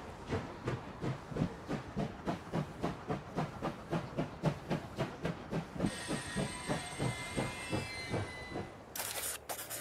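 A train moving in the Last Train Home video game gives a regular rhythmic clatter of wheels over rail joints, steady and moderately quiet, with a hissing layer near the end.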